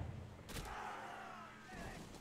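A cannon fires once in a pirate-themed Caribbean video game: a sharp, loud blast that is followed by a fading whistling, ringing tail.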